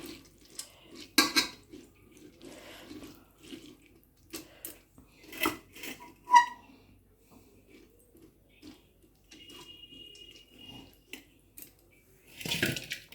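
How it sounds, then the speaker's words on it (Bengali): Water drains through a sieve while Bengali kadam pitha is being made, heard as faint, intermittent trickles with occasional light clinks of kitchenware. "চালনির মাধ্যমে জলটা পুরোটা ঝরে যাবে"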